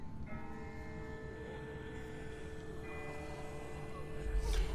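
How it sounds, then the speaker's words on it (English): Distant bell ringing in The Walking Dead video game, a sustained metallic tone with steady ringing overtones held across the clip over a dense background rumble, growing slightly louder near the end. "That's not the same bell as before. This one's further off."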